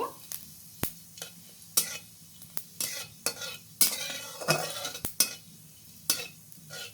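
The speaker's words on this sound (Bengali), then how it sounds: "ফোড়নটা একটু ভেজে নেব" Cumin seed tempering fries in oil in a kadai while a spoon stirs it, giving repeated scraping clatters over a continuous sizzle, fairly close and with no talking.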